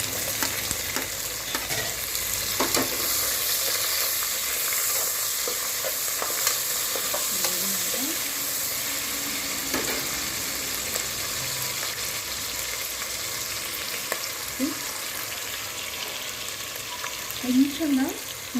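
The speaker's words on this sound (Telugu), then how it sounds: "ఇప్పుడు ఈ ఆనియన్స్ వేసేయాలి." Onions fry in a pan for a fish curry, a steady moderate sizzle with intermittent stirring scrapes and clinks throughout, and faint background sounds around it.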